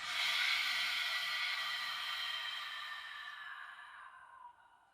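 A long, airy exhale during a yogic three-part breath, a steady close-up rush of breath through the mouth that slowly fades over about five seconds, with no talking.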